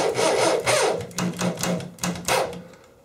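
A power drill, a simple on-or-off model, drives screws into drywall while mounting a TV and shelving unit, giving several rough, grinding bursts with short pauses between them, close by and with no talking.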